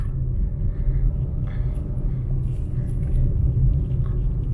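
A car drives along a city street in Cebu at dusk, making a steady low engine and road rumble close to the listener. It runs without a break and no one speaks.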